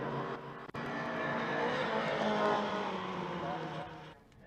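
Mini Cooper race cars in the Scottish Mini Cooper Cup running side by side under a bridge, engines roaring loud and sustained as they pass, with a commentator talking over them.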